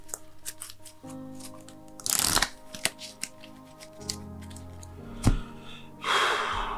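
Playing cards from a tabletop card game shuffled close by, with quick riffle bursts and card snaps over a steady musical background.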